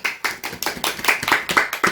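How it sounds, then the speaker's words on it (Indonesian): A small classroom group claps for a student after her answer, about a dozen distinct, fairly quick hand claps in an uneven rhythm, close and clear. "Beri tepuk tangan untuk Atika"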